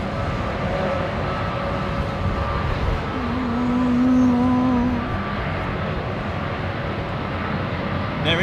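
Jet aircraft engine at London Heathrow Airport, a broad roaring rumble with a resonant tone that swells to a peak midway and then settles back, heard from a distance without talk.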